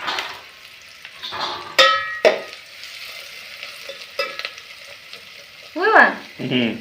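Chopped onion frying in hot oil in a pan for a prawn curry: a steady, close sizzling hiss broken by several sharp clinks and scrapes of a stirring utensil, with a brief voice near the end.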